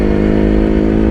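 An old two-stroke motorcycle being ridden, its engine droning loud and steady close by, with a dense buzzing note and no voices.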